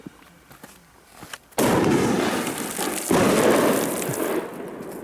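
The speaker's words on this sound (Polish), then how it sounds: "petarda nie miała żadnego problemu, żeby w wodzie wybuchnąć" A Titanium Bombers firecracker thrown into water bursts with a sudden loud boom, followed by a roaring, crackling tail and a second sharp blast a moment later.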